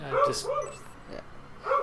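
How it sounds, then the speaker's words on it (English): Dogs bark and yip in the background, a few short bursts spread through the clip and partly mixed with a person talking. "why are the dogs barking that much?"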